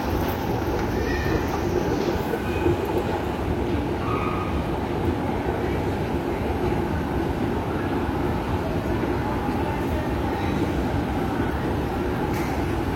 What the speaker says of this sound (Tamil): IC intercity express.